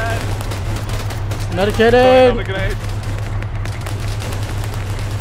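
Rapid bursts of gunfire from a Virolahti Driving Simulator video game scene keep cracking over a steady low hum, while someone talks loudly over the shooting midway through.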